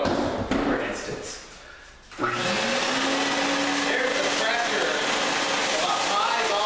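Ozone generator machine switching on into a steady, loud whooshing rush of high-pressure air with a rising motor whine, heard close up after a brief quieter moment.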